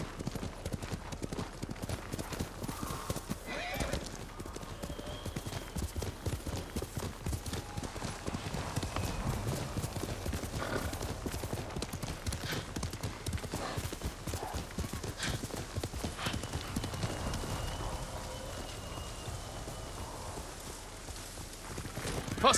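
Horse hooves clip-clop steadily at a walking pace in the game Ghost of Tsushima, a quiet, even rhythm of hoof falls that runs the whole stretch, with a brief whinny-like sound and faint game ambience behind.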